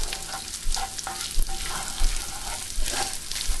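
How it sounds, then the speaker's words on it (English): Sausage browning in a hot pan, a steady close sizzle and crackle of rendering fat with soft scraping stirs every second or so. "So I like to get this sausage just a bit brown."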